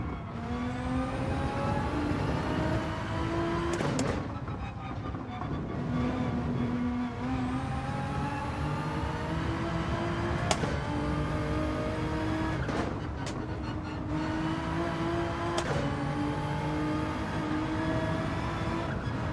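Toyota Supra race car engine in Gran Turismo 7, a close, continuous high-revving drone that climbs steadily in pitch and drops sharply at each upshift, repeating through several gears down a long straight, with no talking.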